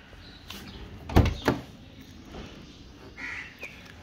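A car door on a Subaru Pleo 660cc kei car gives two close thumps in quick succession, followed by fainter rustling and clicks.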